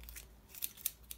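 Scissors cut paper for a leaf-and-caterpillar craft made with a toddler. Several soft, quick snips sound close but quiet in a still room, with no talking.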